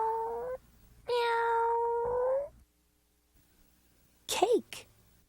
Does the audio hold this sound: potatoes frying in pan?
no